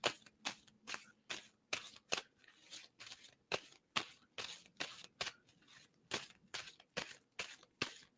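A deck of tarot cards is shuffled by hand in a quiet room, giving a steady run of crisp, rapid riffling bursts at close range, with no talking.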